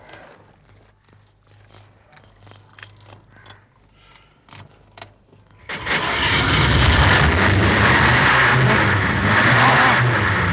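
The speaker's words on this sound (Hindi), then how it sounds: "गाड़ी स्टार्ट करो।" A car with a burst silencer is started: keys jangle and rattle for several seconds, then the engine catches and runs in a loud, rough, sustained roar close by.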